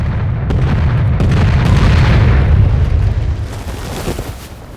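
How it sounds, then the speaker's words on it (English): Heavy, rumbling blasts from the Dunkirk war film roll on continuously, deep booming explosions swelling in loudness and then easing off slightly toward the end, with no voices. "the blasts keep getting near him"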